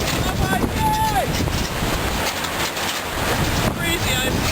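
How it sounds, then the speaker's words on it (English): Loud, blustery wind from a windstorm roaring and buffeting the microphone nonstop, with gusts swelling and easing. "There is so much wind here."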